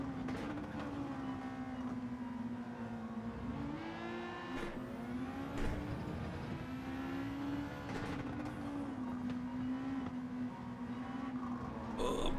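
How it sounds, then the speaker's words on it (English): Racing car engine in a video game time trial, a steady high whine with rising and falling revs as the car chases another through a slipstream, continuous and up close with no talk. "you chase Mr. Faber to the point where you get the slipstream"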